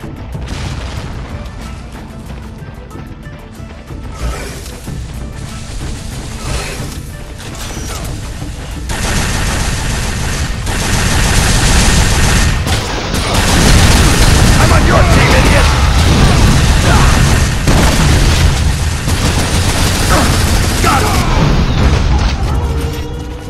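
Heavy gunfire and explosions in the PS3 shooter Unreal Tournament 3, a dense, loud, sustained barrage of booms, bursts and weapon fire that builds and stays intense for many seconds.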